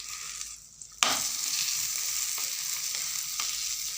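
A stuffed cauliflower paratha sizzles on a hot tawa, with a steady close frying crackle that jumps louder as it hits the pan and keeps hissing with small pops. No one speaks.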